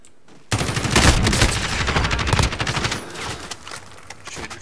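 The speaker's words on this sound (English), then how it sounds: "Shooting from up top as well." Dense bursts of automatic gunfire in a first-person shooter video game, loud and close, overlapping shots rattling for several seconds after a quiet start, then thinning into scattered single shots.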